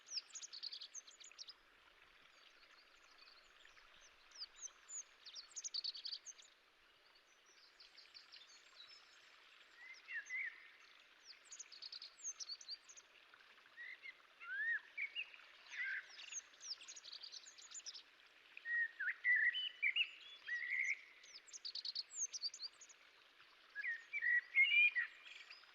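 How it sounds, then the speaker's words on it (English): A Bonelli's eagle calls in the Tagus International area in autumn, giving repeated high, thin chirping and yelping notes in irregular bursts, moderately distant, over a quiet outdoor background. "The Bonelli's eagle."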